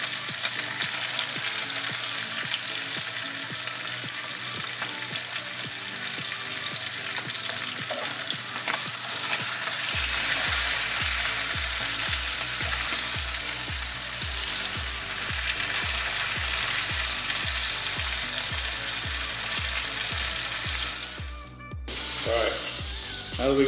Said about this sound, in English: now that we got that nice caramelization on these steaks, go ahead and pull these off